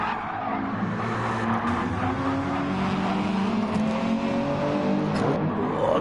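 Race cars in a PS4 racing game's third and final race at Barcelona. Engines drone and whine steadily with tyres squealing and skidding, loud and close, and no voices.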